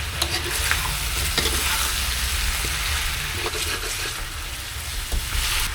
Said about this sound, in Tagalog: Halo nyo na ulit.